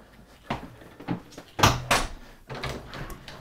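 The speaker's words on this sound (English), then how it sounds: "Going back out through the door." Indoor doors swing open and shut as someone walks back out toward a garage, giving a few sharp thumps and latch clicks with a louder bang in the middle, mixed with footsteps and rustling, no talking.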